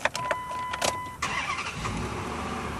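A 2008 Dodge Durango SLT 4WD V8 starting up, with a brief crank and then the engine catching into a steady, fairly loud idle rumble close by.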